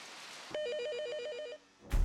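A telephone bell trills in a research center's office, one burst of rapid alternating rings lasting about a second, loud and close, followed by a short silence and then a thump.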